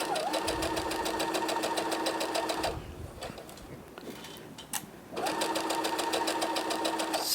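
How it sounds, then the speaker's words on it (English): A sewing machine stitches steadily along a drawn box outline, running in fast, even bursts with a brief pause in the middle, close and loud. "So I'm going to sew I'm sewing right on that box."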